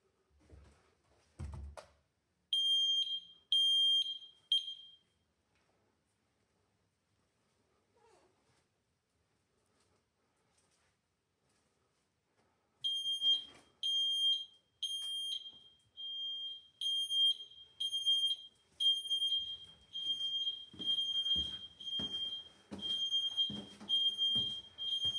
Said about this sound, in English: Trigger the detector in one part of the house and the warning is no longer limited to that room.